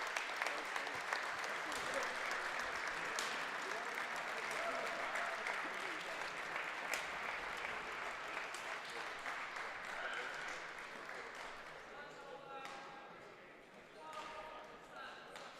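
A crowd at a badminton championship final applauds and cheers steadily, a dense wash of clapping that fades toward the end, with a few voices audible near the close.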